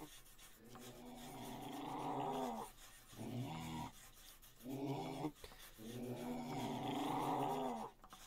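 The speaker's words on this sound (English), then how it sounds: "Quit growling at me, Grandma." A grandma character in a Roblox game growls in long, rough, throaty bursts, loud and close, with brief pauses between the growls and no talk.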